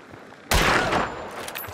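A single sharp gunshot in Hunt: Showdown cracks out loud and close, followed by a ringing tail and a short clatter before a second faint hit at the end.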